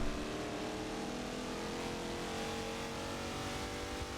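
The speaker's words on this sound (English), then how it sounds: "Sounds amazing. Twin turbo V6." A sport touring race car with a twin turbo V6 engine at a road course, a steady, loud, droning engine note sustained at high revs throughout, close and unbroken, with no talk.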